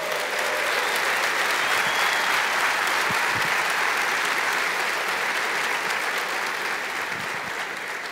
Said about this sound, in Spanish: Fuerte ese aplauso a Jesús.